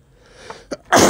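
A single loud, close sneeze bursts out after a couple of faint sharp inhales, with no talking.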